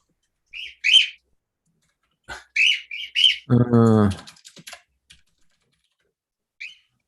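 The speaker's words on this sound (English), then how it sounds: "Shut up, stupid birds." Birds chirp in short bright bursts near a studio during a live broadcast, a few separate calls spread across the moment with a brief low rumble in between, otherwise quiet.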